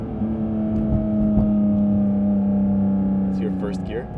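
A Porsche GT4 RS engine is held at revs in first gear with its exhaust valves closed, giving a steady, muffled, droning hum.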